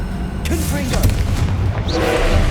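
Confringo blasting curse explosion in Hogwarts Legacy, a booming, thudding blast with rumbling low end over a continuous game soundscape, with voice-like tones mixed in.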